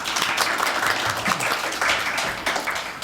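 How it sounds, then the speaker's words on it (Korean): An audience at a Korean real estate policy forum applauds as a panelist is introduced, a short, dense burst of clapping from many hands that stays fairly even throughout. "박수로 맞이해 주시기 바랍니다"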